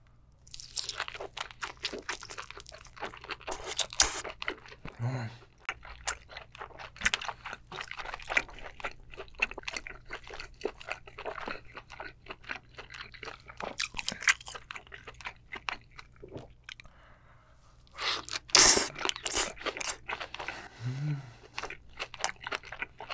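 Someone eats a giant spicy mara seafood boil with peanut sauce, heard as close, loud crunching and chewing in repeated bites with wet mouth sounds, with no talking.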